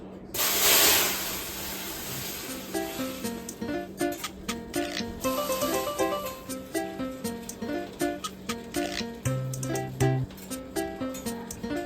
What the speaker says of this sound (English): we're gonna pour some of this boiling water into this pan and then slide it back in